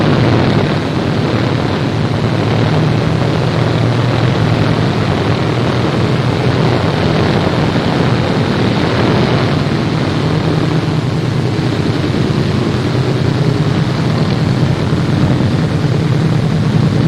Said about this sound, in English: We're going up to see how this airplane reacts